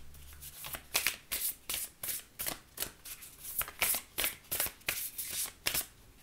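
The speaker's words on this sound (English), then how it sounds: "let's pull a Quantum Oracle card" Quantum Oracle cards being shuffled by hand, a quick run of about a dozen crisp riffling bursts in a steady rhythm, close up and clear with no talking.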